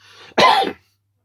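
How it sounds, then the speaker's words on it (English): A single sharp cough, close and loud, preceded by a brief breathy intake, then silence. "that was an actual cough"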